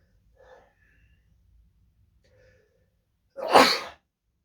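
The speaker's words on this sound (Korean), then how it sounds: "제가 이제 반팔을 입어서 또 기침이 나왔습니다" A man gives one loud, abrupt cough-like burst close to the microphone, preceded by faint breathing and a few quiet sounds.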